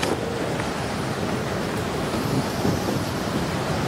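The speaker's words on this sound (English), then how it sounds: "The wind was picking up snow powder as it whipped north across the summit, making it impossible to inflate the glider." Strong wind at the Everest summit, whipping snow powder northward, as a continuous loud roaring gust that buffets close to the microphone.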